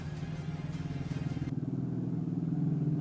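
A motorcycle engine runs steadily nearby with a rapid, throbbing idle rhythm that grows a little louder over a few seconds.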